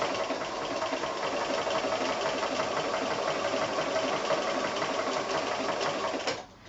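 A sewing machine runs steadily, stitching a blanket stitch around fused applique fabric. The needle hum is loud, close and continuous, and it stops abruptly just before the end.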